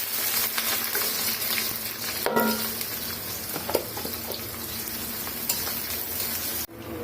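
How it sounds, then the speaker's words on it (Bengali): Onions sizzle steadily in hot oil for pulao, with a constant crackling hiss and occasional clinks and scrapes of stirring close by. "এখন আমি এর মধ্যে এই পেঁয়াজগুলো দিয়ে দিব।"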